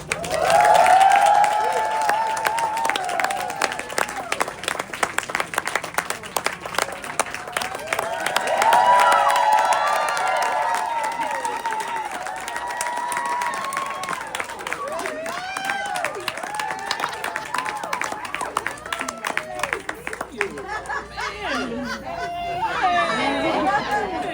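An audience at a book chat welcomes Edwina Findley Dickerson and Viola Davis with bursts of clapping and cheering, mixed with crowd chatter and a voice speaking over the room.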